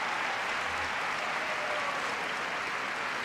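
A crowd applauds at the ISU European Figure Skating Championships, with a dense, even wash of clapping from a large arena audience that holds steady throughout.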